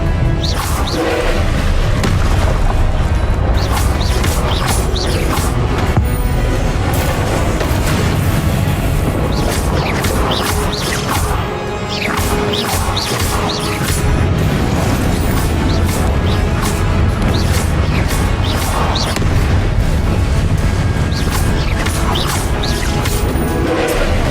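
Confringo and Incendio spell blasts in Hogwarts Legacy, a continuous barrage of sharp crashing impacts and booming bursts in rapid succession, loud and dense throughout with whooshing combat effects.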